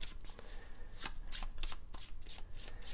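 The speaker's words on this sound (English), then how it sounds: "we're just going to take the 2 dots and shuffle them" A small stack of cards from the Roll Player: Monsters & Minions board game is shuffled by hand, a run of quick riffling bursts and soft slaps, close by and without talking.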